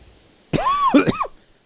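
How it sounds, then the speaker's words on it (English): A single harsh cough with a strained, voiced quality, close and fairly loud, lasting under a second in an otherwise quiet room. "pardon me, I'm coughing"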